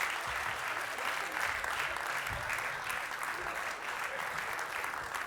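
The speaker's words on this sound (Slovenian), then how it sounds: "Zdaj vem, da boste pa starši mogli malo aplavza dati, ne pa mentori, pa vsi naši gostje danes." Audience applause at a closing award ceremony, dense and steady clapping from a large crowd that holds at an even level for several seconds.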